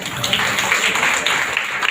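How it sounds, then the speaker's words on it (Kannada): An audience at a cooking competition applauds, a brisk, continuous patter of many hands clapping at a fairly loud, even level. "ಅವ್ರಿಗೊಂದು ದೊಡ್ಡ ಚಪ್ಪಾಳೆ"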